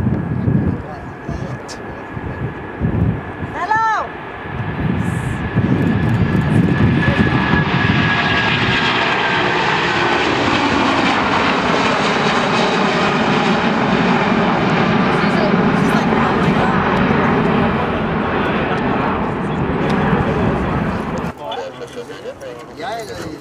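A jet airliner takes off at Montreal's airport, its engine roar building into a loud, sustained rumble that holds for about fifteen seconds before cutting off, with people chatting nearby at the start.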